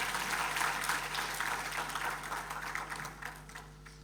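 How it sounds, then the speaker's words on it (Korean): Church congregation applauding to welcome guests during a Sunday worship service, a steady wash of clapping throughout, moderately distant and fading slightly toward the end. "박수로 환영해 주시기 바랍니다"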